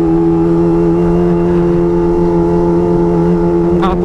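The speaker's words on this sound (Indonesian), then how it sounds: "So suara knalpotnya kenceng banget." A Kawasaki ZX25R motorcycle fitted with a Pro Speed full exhaust system idles loudly and steadily up close, a deep constant engine drone holding throughout with a slight change near the end.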